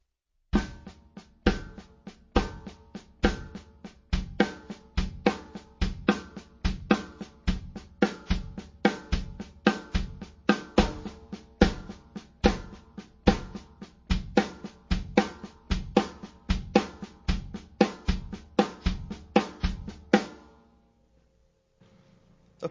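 A drum kit plays an accent exercise, the kick drum pulsing under quarter notes on the hi-hat with accented strokes, in a steady, loud, close rhythm that runs about twenty seconds before stopping abruptly into silence.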